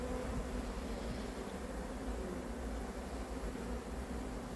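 A swarm of honeybees being hived, heard as a steady, faint, dense buzzing hum that continues without a break.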